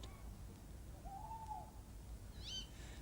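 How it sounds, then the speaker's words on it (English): A screech owl calls once with a wavering, drawn-out cry, then gives a brief, higher trilling note, moderately faint over a low, steady rumble of background noise. "the screech owl, screeching loud"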